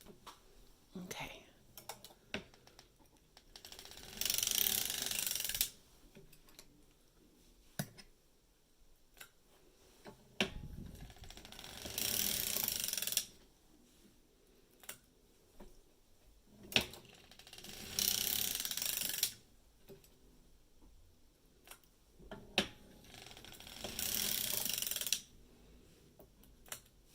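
A circular sock knitting machine knits a 3x1 scallop-top sock with lycra as it is cranked by hand. Its ratcheting mechanism gives off rapid clicking rattles in bursts of a few seconds, separated by quiet gaps with faint ticks.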